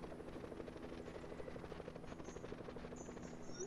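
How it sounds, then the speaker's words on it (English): A helicopter flies close overhead in Fortnite with a steady, loud rotor chop that pulses evenly throughout and drowns out everything else. "Somebody's in the chopper."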